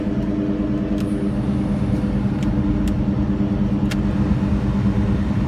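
A Ford Mustang Cobra 4V DOHC V8 from the 1996–2004 years idles while warming up, making a loud, steady, close engine rumble with an even drone and a few faint ticks, and no voices.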